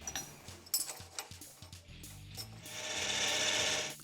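Machinist swapping a lathe's 3-jaw chuck for a collet chuck and locking down a bolt in a shop: close metallic clunks, ratcheting clicks and gear rattles, ending in a steady whirring hum.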